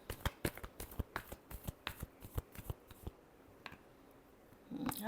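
Tarot cards being shuffled by hand produce a quick, close series of sharp flicking snaps in an uneven rhythm, then quieter rustling as the shuffle ends.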